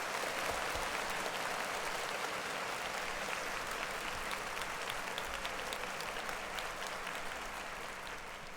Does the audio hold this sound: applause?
yes